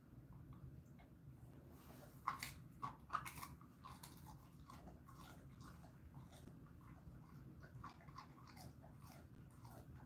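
Jindo dog chewing a snack, several crisp crunching bites up close over a steady low background hum, followed by quieter intermittent chewing.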